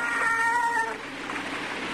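A cat meows somewhere along a balcony at night, a single drawn-out tonal cry heard alone, fairly clear and moderately close before fading into quiet ambient air.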